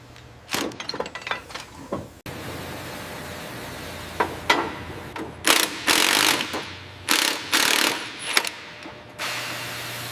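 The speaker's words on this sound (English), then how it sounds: "Let's hit it with the impact wrench." Impact wrench working on the seized motor and corroded steering linkage of an abandoned airport tug in a plane scrapyard: a series of loud, close mechanical rattling bursts, each a second or so long, separated by short pauses.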